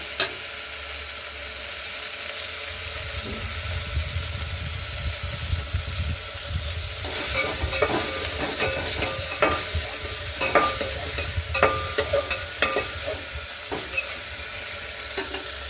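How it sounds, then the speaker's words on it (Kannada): Steady sizzling of tomato frying in a tempering pan for okra gojju, with a spoon scraping and stirring in irregular bursts; no talking. "ಇದೊಂದು ಸ್ವಲ್ಪ ಫ್ರೈ ಮಾಡ್ಕೊಬೇಕು"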